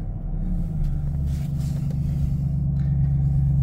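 A 2013 Ford Mustang Shelby GT500 engine idling and given light blips of throttle, a deep close rumble that swells slightly and settles, with no voices.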